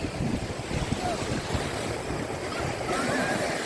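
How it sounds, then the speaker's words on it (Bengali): Rough, churning sea surf at New Digha beach in West Bengal, India, on a rainy day, a dense continuous roar of breaking waves with wind buffeting the microphone, steady and loud throughout. "আজ প্রত্যেকটা জায়গায় সমুদ্র যেন উত্তাল, বিভীষিকা সুন্দরী রূপ"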